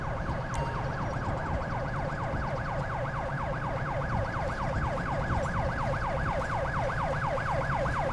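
An ambulance siren in Grand Theft Auto V wails in a steady fast yelp pattern, rising and falling repeatedly, over a constant engine and road rumble, continuous and moderately loud.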